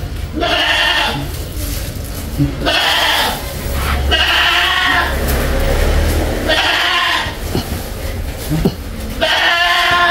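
Goats bleat loudly and repeatedly close by, long wavering cries in a steady series with little pause between them.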